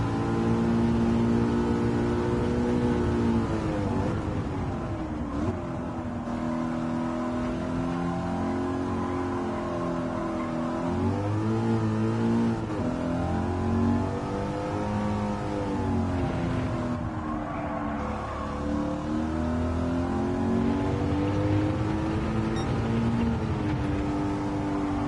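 A Mustang muscle car with a 5-litre V8 roars around Laguna Seca, its engine note climbing and dropping repeatedly through gear changes, loud, close and continuous.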